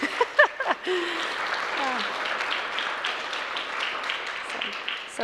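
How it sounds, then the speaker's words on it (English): A conference audience applauds steadily for several seconds, a dense patter of clapping, with a few brief voices and a chuckle near the start. "Thanks for the claps."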